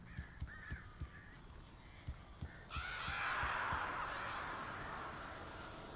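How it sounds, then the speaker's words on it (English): Crows caw repeatedly in the video game Alan Wake, a series of harsh calls over a steady low throbbing pulse, followed by a swelling burst of flapping, rushing bird noise. "These birds are weird."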